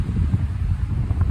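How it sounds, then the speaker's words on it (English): Steady low rumbling wind buffets the microphone on a hilltop overlooking a river at Cheek's Bend near Nashville, a constant rushing roar with no other sounds. "Windy up here today"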